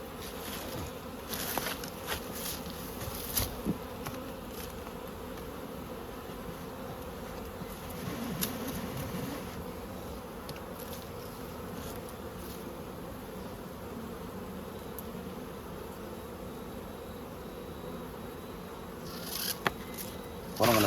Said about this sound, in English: hopefully catch these bees in there